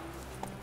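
Hoofbeats of Roach, Geralt's horse in The Witcher 3 video game, galloping at a steady, even rhythm under low game ambience. The steps are faint and short, with no talk.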